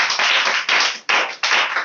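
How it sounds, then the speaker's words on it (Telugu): Audience clapping in unison at a Telugu Christian sermon, loud and close, in several bursts that each fade before the next, with no talk. "గట్టిగా ప్రభు నామానికి చప్పట్లు కొడదాం."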